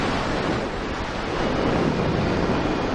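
Strong wind rushes past while a paraglider pushes into a headwind on a mountain flight, a steady, loud, buffeting roar with no breaks.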